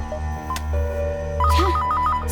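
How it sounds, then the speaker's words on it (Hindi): A telephone ringtone plays loud and near in a South Indian action film dubbed in Hindi, repeating a pulsing electronic melody of short beeps with no voices over it. "सोने भी नहीं देते। किसका फोन है?"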